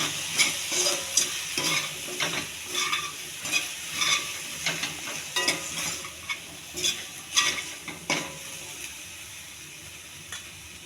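A spoon scrapes and stirs through sizzling okra pieces with turmeric and garam masala in a pan, repeated rhythmic strokes over a constant frying hiss, close up.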